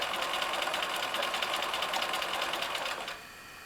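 A sewing machine runs steadily, stitching through the layers of a landscape quilt with a fast, even whir that stays close and loud for about three seconds before cutting to a quieter hum.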